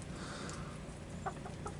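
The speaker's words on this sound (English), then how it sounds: "All three are all silky roosters" Soft, brief clucks from Silkie roosters, a couple of short calls at moderate distance over a steady background murmur, no talking.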